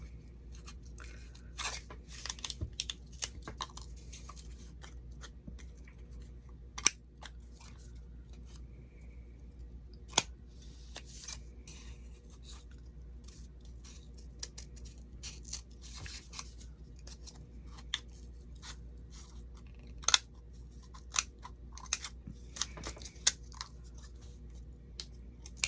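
Scissors cutting cardboard for a rustic Halloween craft, quiet scattered snips and sharp clicks at close range over a low steady hum, no talking.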